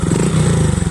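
Honda Dash 125fi motorcycle fitted with an Espada E4 dual silencer exhaust and 28mm manifold, idling with a steady, loud, rumbling low engine pulse throughout the second.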